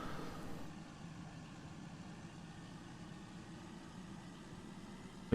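Pitch-shifted vehicle engine from a Farming Simulator 19 mod, a steady droning hum that holds level throughout after a slightly louder opening moment, with no talking over it.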